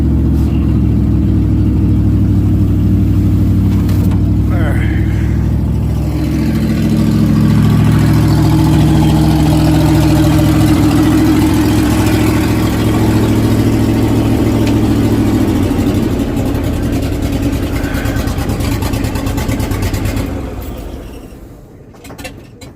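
A vehicle engine with its exhaust pipe broken off underneath runs loud and close, a harsh, steady roar that swells slightly midway and then dies away at the end, with no talking.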